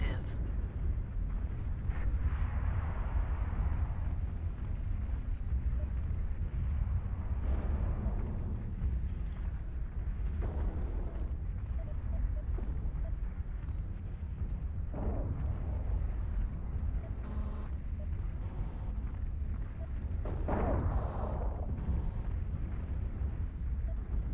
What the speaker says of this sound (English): airstrike protocol active.